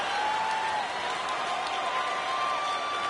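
Crowd noise fills an arena during an NHL 25 shootout, a steady broad roar and cheer at constant loudness with a faint whistle-like tone running through it.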